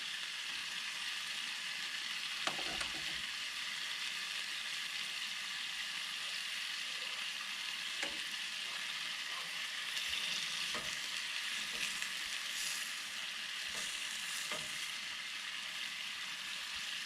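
A salmon fillet sears skin-side down in a hot pan, giving a steady, fairly soft sizzle with occasional crackles and light scraping, and no one talking.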